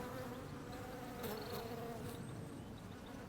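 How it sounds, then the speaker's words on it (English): Bees work a dense patch of flowering lavender, giving a steady, soft, close buzzing hum that runs unbroken, with a few louder passes as insects fly near. "Just look at that lavender, it's teeming with bees."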